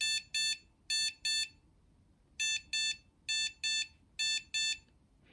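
A dog shock collar gives shrill electronic beeps in quick pairs: two pairs, a short pause, then three more pairs, close and harsh over faint background hiss.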